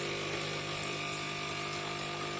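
An Ardesto ECM-EM14S espresso machine's small pump hums and buzzes steadily with water gurgling through it after being cleaned of a blockage, a continuous mechanical drone close by.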